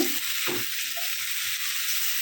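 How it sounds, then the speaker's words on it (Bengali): Drumstick stems sizzling in a pan with shrimp, papaya and potatoes for a Bengali vegetable dish, with a steady bright frying hiss and one short stirring scrape near the start, no voices. "এখন এই যে কেটে রাখা ডাটাগুলো অ্যাড করে দিয়েছি ডাটা দিয়ে কিছুক্ষণ কষিয়ে নিয়ে"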